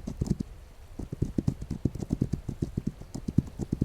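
Horse hooves clip-clop in the video game This Land Is My Land as a horse auto-travels, a fast, steady, even beat of loud, close hoofbeats throughout.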